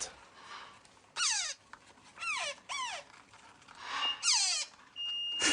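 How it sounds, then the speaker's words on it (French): An incubator's heating alarm chirps in repeated descending electronic sweeps, several short bursts with pauses between, ending in a steady high tone. "On va couper l'alarme là du chauffage"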